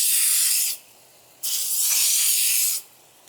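A rotor sprinkler head sprays water in two loud, steady hissing bursts, each lasting over a second with a brief pause between, nearby and with no talk.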